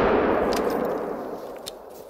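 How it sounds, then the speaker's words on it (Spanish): A loud rifle shot in the hunting video game theHunter: Call of the Wild, during an elk hunt, booms and rings out in a long decaying tail, followed by a few faint mechanical clicks. "ya he tirado los dos tiros"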